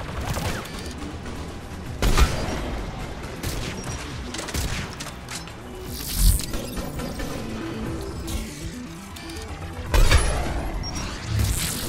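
Rifle fire in Mass Effect 3, sharp loud shots cracking out at intervals of about four seconds over a busy bed of combat noise and rumbling game sound, with no talking.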